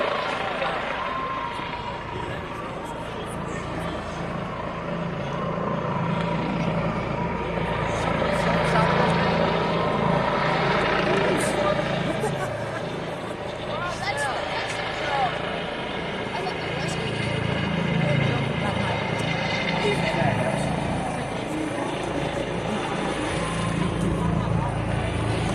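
An Airlife medical helicopter comes in to land at a baseball game, its loud rotor roar and engine whine filling the air for the whole stretch, with crowd noise and voices underneath.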